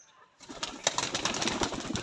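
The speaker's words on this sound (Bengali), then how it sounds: "সব কবুতর বেরোয় গেছে।" Village pigeons taking off together, a burst of close wing flapping and rustling after a brief quiet start, with faint cooing mixed in.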